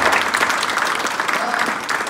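A church congregation gathered for a fiftieth-anniversary celebration claps louder, a dense, even burst of crowd applause filling the whole moment without pause.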